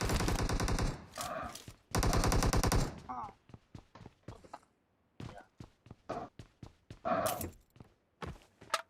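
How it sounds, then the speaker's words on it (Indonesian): Bursts of automatic gunfire from a shooting video game, two long rapid volleys followed by scattered single shots and short bursts, loud and close, with a few faint voices in between. "Kok kalian nembak?"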